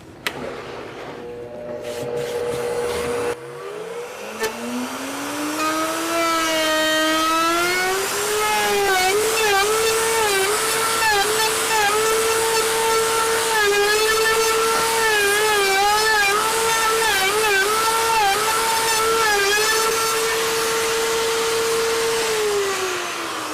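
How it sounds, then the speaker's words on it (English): A high-pitched router table whines up to speed and keeps running steadily, its pitch dipping and wavering as it cuts a rounded edge into wood. "we're just going to run it through the router table to get everything nice and curved"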